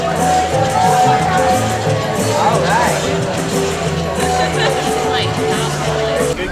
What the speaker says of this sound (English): Can't you feel the crowds today?